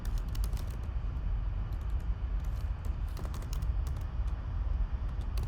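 Steady run of keystrokes on a computer keyboard, a dense continuous clatter of clicks at close range throughout, with no talk.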